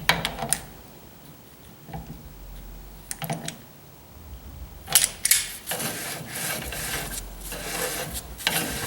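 Nut being tightened on a wheel axle to seat the bearing, heard as intermittent close metallic ratcheting and rasping bursts with scraping, louder in the second half.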